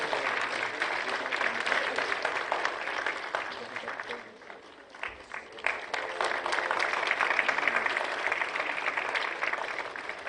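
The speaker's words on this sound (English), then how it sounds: "A huge round of applause, ladies and gentlemen." Sustained applause from an audience at an award ceremony for an electronics and software expo, a steady dense wash of clapping that dips briefly midway and then swells again, fairly loud throughout.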